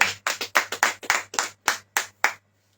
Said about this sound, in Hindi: ताली बजाएंगे सब।